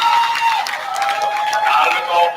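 Audience applause at a Howard County 4-H swine show: a steady wash of many hands clapping for the exhibitors, sustained and fairly loud across the whole moment without a break.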